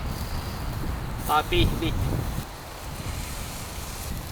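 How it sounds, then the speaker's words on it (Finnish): Strong wind blowing outdoors on a Finnish hillside trail, a steady broadband rush buffeting the microphone, with a brief spoken phrase partway through. "Aika kova tuuli on."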